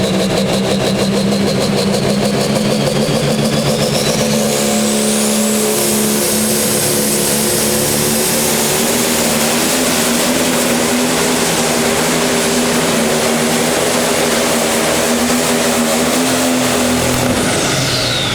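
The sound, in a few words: pro stock pulling tractor engine roaring during a pull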